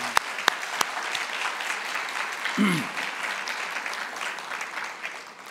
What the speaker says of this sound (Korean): 큰 환영의 박수를 부탁드리겠습니다